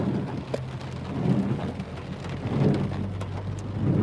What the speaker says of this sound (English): this has been raining all day non-stop